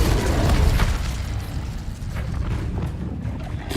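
Incendio fire spell in the video game Hogwarts Legacy, a heavy booming burst with deep rumble at the start that settles into a crackling, roaring low tail.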